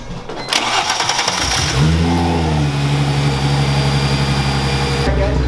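A Chrysler Crossfire engine starts after a throttle body install and settles into a loud, steady idle close up, with a brief rev and a low droning hum throughout.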